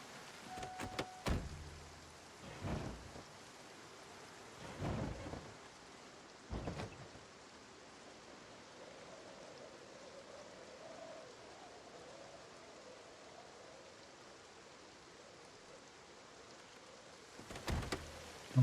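Steady rain in the Project Zomboid video game, an even, faint hiss that runs throughout, with a few sharp clicks and knocks near the start and end.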